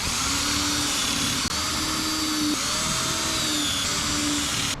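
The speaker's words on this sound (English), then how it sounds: "now I'm going to drill some pilot holes" A power drill bores pilot holes in wood for cornhole boards, whirring steadily and loudly throughout, with a brief catch near the middle as the bit bites, a continuous high motor whine.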